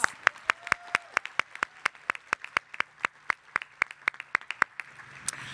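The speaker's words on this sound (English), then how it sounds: "Let's give them another round of applause." A small group claps at an awards breakfast, honoring high school seniors: sharp, evenly spaced individual claps ringing out in a quiet room, fairly close and distinct, fading off near the end.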